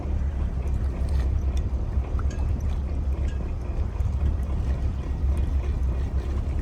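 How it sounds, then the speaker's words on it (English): Boat engines run steadily during a Lake Erie crossing, a continuous low rumble with some wind and water wash, loud and unbroken without speech. "Throw some fuel at that starboard reverse engine."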